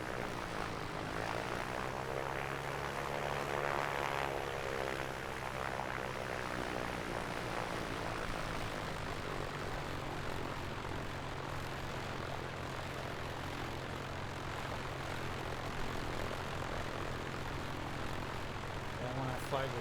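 Propeller airplane engine at an airport in a flight simulator, a steady droning hum with a rising and falling whine early on, continuous and moderately quiet, with someone talking over it.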